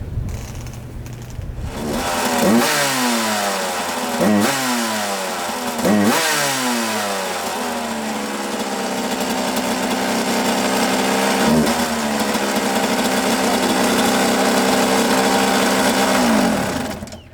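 A Suzuki RM125 two-stroke dirt bike, running lean and needing a tune-up, revs sharply several times in close succession, then holds a loud, steady buzzing drone with one more throttle blip later on. No voices.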